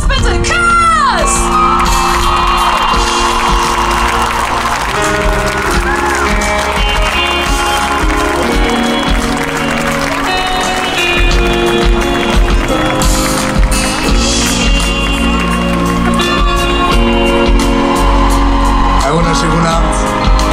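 A large open-air concert crowd cheers, whoops and applauds loudly over continuous amplified music, with shouts rising throughout.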